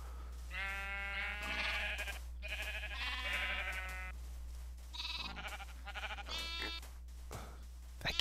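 Sheep in Minecraft bleat over and over in short nasal cries, several overlapping close by and loud, with a steady low hum underneath and no speech.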